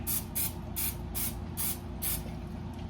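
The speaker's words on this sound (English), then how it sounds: "we're gonna spray this baby down." Cooking spray hisses onto a cake pan in six short, evenly spaced bursts, close and fairly loud, with no talking.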